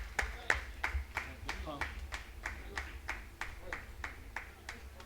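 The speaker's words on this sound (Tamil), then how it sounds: "உங்கள் பலத்த கைத்தட்டல்களுக்கு மத்தியிலே" Applause at a Tamil book launch and award ceremony, heard as a regular, evenly spaced run of individual sharp claps, moderately near and fairly quiet, with a low steady room hum underneath.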